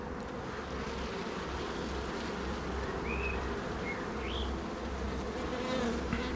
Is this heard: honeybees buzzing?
yes